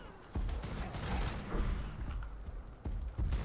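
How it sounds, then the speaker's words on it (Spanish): Gunfire aimed at a creature in ARK: Survival Evolved, a burst of loud, dense shots that keeps going for a few seconds with short breaks, close and heavy, with only a little talk. "Y yo pegándole tiros"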